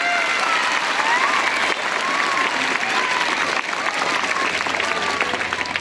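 An audience at a student guidance talk bursts into loud, sustained clapping, a thick, steady roar of applause that keeps going throughout.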